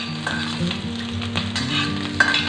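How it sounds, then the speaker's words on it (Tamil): Small onions, big onions and chillies sautéing in a pan for Tirunelveli sambar, with a steady close sizzle of frying and occasional stirring scrapes, with no talking. "எல்லாத்தையும் வதக்கிடுவோம்."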